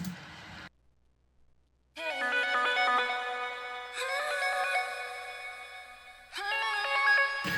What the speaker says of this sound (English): that's like the high frequency kind of synth sound in the background